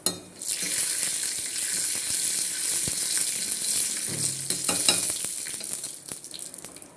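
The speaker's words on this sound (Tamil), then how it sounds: "இப்போ நம்ம இதில் கருவேப்பிலையை போட்டுட்டு நல்லா கலக்கிட்டு" Curry leaves frying in a pan for a green chilli chutney, a steady loud sizzle with scattered clicks and scrapes of stirring, close and continuous with no talk.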